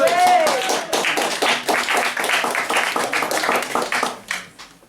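A small audience gives a round of applause for a spoken word performer at an open-mic style event: scattered, uneven clapping that swells briefly and tapers off, with a voice briefly audible over the start.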